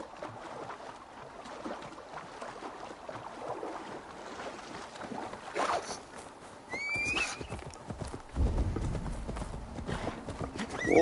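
Hooves clip-clop steadily as a horse moves along in Assassin's Creed Valhalla, joined by splashing water and a brief whinny, with faint voices in the background.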